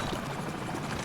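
A helicopter in the game Call of Duty 4, its rotor giving a steady, fast-pulsing thrum throughout this brief moment, with no talk over it.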